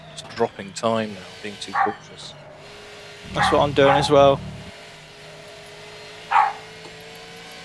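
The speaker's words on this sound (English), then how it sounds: "Sorry about the dog barking." A dog barks and yips a few times in a home during a sim racing session, with people talking throughout, the barks mixed in among their voices and one more yelp near the end.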